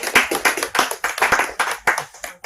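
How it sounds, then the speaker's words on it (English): Applause after a poem reading at a book launch, a small group clapping with distinct, uneven hand claps close by, loud and irregular, with no voices over it. "I think this needs applause."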